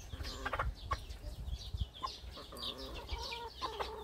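Chickens and young chicks cluck steadily and busily while being fed outdoors, a dense near chorus of short clucks and peeps at moderate loudness with low rustling beneath.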